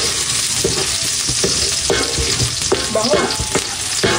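Garlic sautés for pinakbet in a hot pan with a constant loud sizzle, broken by the scrape and clack of stirring at irregular intervals.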